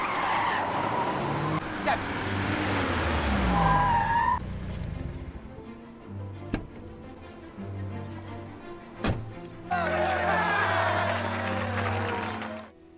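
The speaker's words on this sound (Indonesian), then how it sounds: "Di pabrik, mereka semua menyaksikan uji coba mobil Lamborghini Miura" A 1960s Lamborghini Miura sports car on a factory test drive screeches its tires in long skids, engine revving loudly between bursts, with sharp thuds in the middle.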